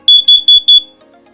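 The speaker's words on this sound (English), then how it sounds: "This is only a test. Testing smoke. Testing carbon monoxide." Google Nest Protect smoke and carbon monoxide alarm sounds a test alert: four loud, shrill, evenly spaced double beeps in quick succession, then silence.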